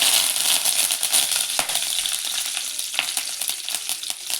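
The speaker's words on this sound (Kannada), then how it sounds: "ಇವಾಗ ಒಂದು ಸ್ಪೂನಷ್ಟು ಸಾಸಿವೆನ ಹಾಕ್ಕೊಳ್ತಾ ಇದ್ದೀನಿ" Mustard seeds, about a spoonful, spluttering in hot oil for a mushroom curry, a dense steady sizzle peppered with sharp popping crackles throughout, close and loud, no talking.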